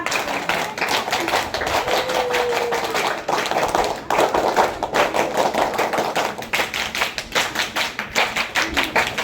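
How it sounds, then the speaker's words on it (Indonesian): A Scout (Pramuka) group at a camp performs a patterned group clap, loud unison claps in repeating rhythmic bursts with short pauses between phrases, continuing throughout. "Ayo, tepuk pramuka."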